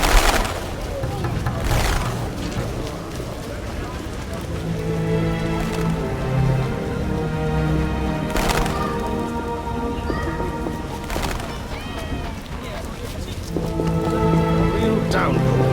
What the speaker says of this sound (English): Real downpour.